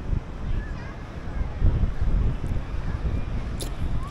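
Steady wind gusts buffet the microphone on the Alexandria, Egypt waterfront aboard a small boat, with low rumbling noise and faint water movement throughout, fairly loud and continuous.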